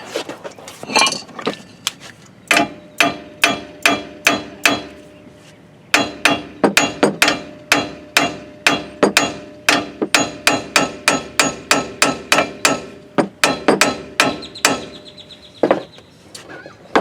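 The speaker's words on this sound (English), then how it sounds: "Sometimes you gotta have a little bit stronger hammer." A metal hammer bangs on a car part in rapid, steady blows, dozens of sharp ringing strikes with a brief pause partway through, loud and close.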